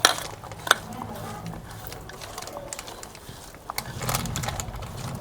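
Tomato masala for a garlic onion cheese paratha being stirred in a pan, with a sharp clank of a utensil on metal, then scraping and mixing sounds and a soft sizzle underneath.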